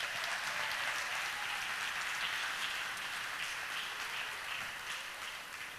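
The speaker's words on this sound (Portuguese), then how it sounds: "Vamos dar uma salva de palmas para essa criança." Steady applause for a child drummer at a church gathering, dense even clapping at moderate level, fading slightly toward the end.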